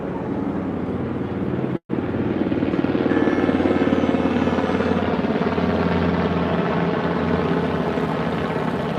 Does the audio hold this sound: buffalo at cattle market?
no